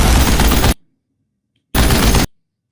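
Bursts of rapid gunfire from the teaser of the Bangladeshi action film Prince, starring Shakib Khan, for Eid 2026: two loud, dense volleys, each under a second long, separated by a short silence.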